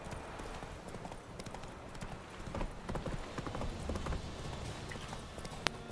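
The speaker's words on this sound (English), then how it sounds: "I forgot the horse automatically goes along the trail." Horse hooves clip-clop steadily along a forest trail in The Witcher 3, a continuous near rhythm of hoofbeats with a brief sharp knock near the end.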